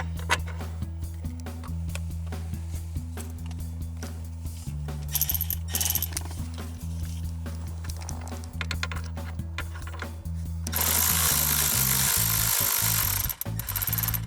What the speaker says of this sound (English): Going back to these screws, getting the thread started.